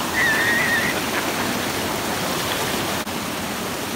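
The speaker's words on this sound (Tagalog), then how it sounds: "Ang lakas ng tubig." A river or waterfall rushes with strong water, giving a loud, continuous roar throughout. Nobody speaks over it.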